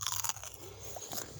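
Close crisp crunching as a fresh snap pea, picked in a backyard garden, is bitten and chewed, a few quick snaps up front, then quieter chewing.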